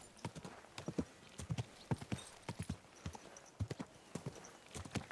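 Horse hooves clip-clop steadily on the ground in the video game Kingdom Come: Deliverance II, a close, even walking rhythm of many footfalls with faint background ambience.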